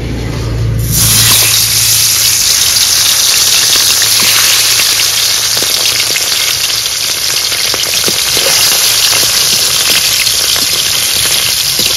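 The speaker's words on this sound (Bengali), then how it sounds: "তেল তো ভালো করে গরম হয়ে গেছে, এবার তেলে মাছগুলো ছেড়ে দেব।" Pomfret fish are dropped into hot oil for a spicy curry and set off a loud, close, continuous sizzle that starts with a burst and spits and crackles steadily throughout.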